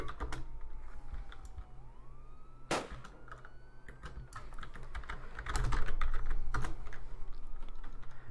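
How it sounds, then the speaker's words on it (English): Rapid clicking of computer keyboard keys, fairly close, in irregular bursts while playing Roblox, with a faint siren wailing in the background and a low hum throughout. "I can hear the keyboard."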